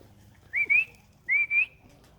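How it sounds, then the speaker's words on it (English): A person whistles to call birds at feeding time, giving two short two-note whistles in quick succession, clear and close against a quiet outdoor background. "Always whistle when you feed them. They'll recognize that whistle."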